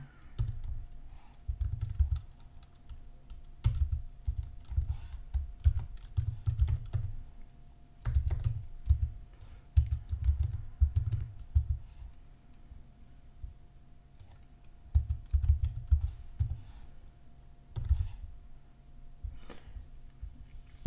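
A computer keyboard clatters with steady bursts of typing at close range, broken by brief pauses and a few sharper key taps.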